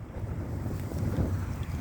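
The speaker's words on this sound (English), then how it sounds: "there goes the wind. It knocked it out." Gusty outdoor wind buffets the microphone while someone tries to light a tinder flame, a steady low roaring rumble that swells slightly partway through, with no talking.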